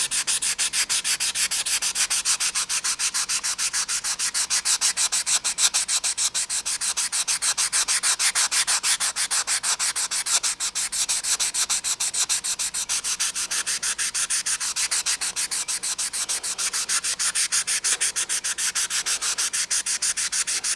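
Sandpaper rubs continuously over the rough surface of a 1/48 B-25B plastic model kit in close, fast, rhythmic back-and-forth strokes, dry and scratchy throughout with no talking.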